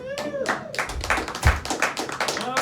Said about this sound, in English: I hear people clapping in the background.